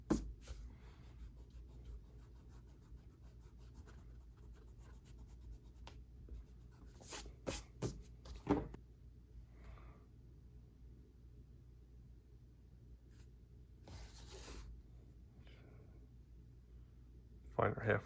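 Pencil lines being erased on paper, a faint steady rub with short louder bursts of quick scrubbing strokes partway through and near the end.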